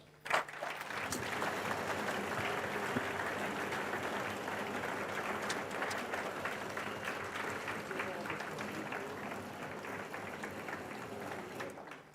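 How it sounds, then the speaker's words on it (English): An audience at a mathematics foundation awards function applauds an award recipient, a steady, dense wash of clapping that holds evenly for about eleven seconds before cutting off. "Let's give a round of applause for Ashley Agu."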